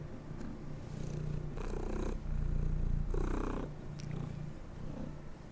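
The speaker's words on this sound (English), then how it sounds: "my girlfriend's cat has arrived" A cat purrs close up with a steady low rumbling rhythm, swelling and easing with each breath, with a few soft rustles and clicks.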